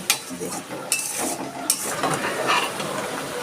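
Banana stem paste with salt and turmeric being stir-fried in a pan, a steady close sizzle with scraping spatula strokes against the metal and a few sharper clinks, continuing throughout.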